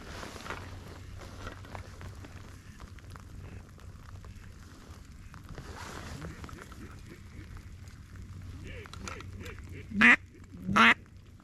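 Ducks quack twice in quick succession near the end, sharp and fairly close, over steady low rumble and wind noise from a flooded rice field during a duck hunt.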